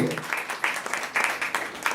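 Audience applause at a reverend's 70th birthday celebration: a short, steady burst of many hands clapping together, fairly close and even throughout, with no speech over it.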